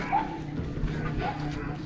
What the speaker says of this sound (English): He is one happy dog right now.